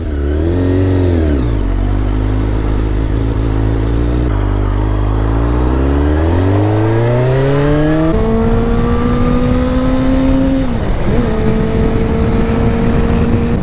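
A rebuilt, previously wrecked Suzuki GSX-R600 sport bike on its first test ride, its engine loud and close as it revs and climbs through rising pitches, drops back after each gear change, then holds a steady high drone.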